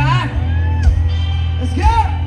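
Concert crowd shouting and whooping along with a performer in the Philippines, a loud sustained roar of many voices with rising cheers near the start and end, steady and dense throughout.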